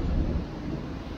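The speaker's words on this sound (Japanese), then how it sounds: "雨もめっちゃ降ってる" Heavy rain pours during a thunderstorm, a dense, steady roar of broadband noise with low rumbling throughout, loud and close, with no voices.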